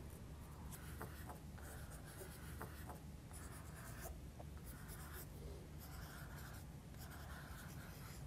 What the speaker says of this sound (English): I've also got an apple green pencil, which I'm going to work in on top